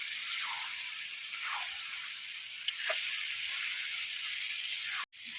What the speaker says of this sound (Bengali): এবার আমি আলুগুলো দিয়ে দেবো ওর মধ্যে, দিয়ে আবার কষাতে থাকবো।